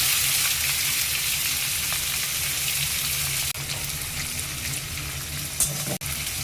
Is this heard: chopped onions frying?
yes